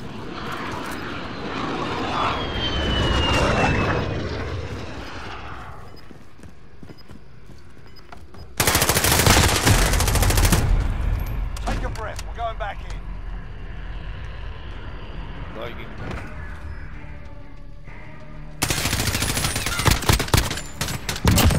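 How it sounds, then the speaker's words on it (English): In Call of Duty: Modern Warfare, a VTOL aircraft engine roars and whines loudly, broken by sudden dense bursts of rapid gunfire, with radio-style voices talking intermittently over the din. "Got a VTOL on station,"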